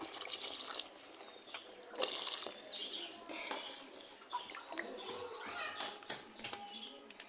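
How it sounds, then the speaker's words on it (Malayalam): Coconut milk is poured into a cooking pot already holding dry ginger and cardamom, giving soft, close bursts of liquid trickling and splashing with small drips between pours. "ഇനി നമുക്ക് തേങ്ങാപ്പാൽ ചേർത്ത് കൊടുക്കാം"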